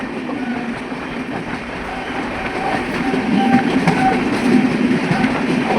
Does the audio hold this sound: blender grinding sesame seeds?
no